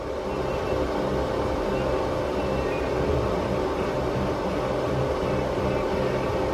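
Titanium Easy Flux 125 flux core welder arcing on thin scrap metal while burning through, giving a steady, dense crackling sizzle that runs without a break for the whole stretch.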